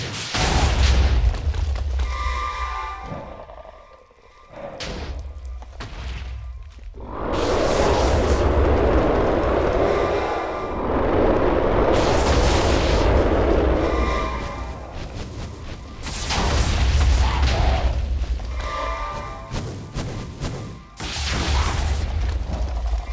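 Explosive shots slam into the Hydra boss in a Minecraft mob battle, a run of loud, rumbling booms and blasts overlapping one another with brief lulls between bursts.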